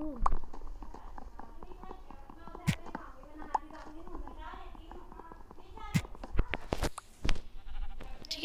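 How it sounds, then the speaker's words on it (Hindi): A goat bleats in the video game Minecraft, with wavering calls under frequent talking, alongside sharp clicks and thuds from gameplay. "एक सेकंड एक और बकरी मिल गई"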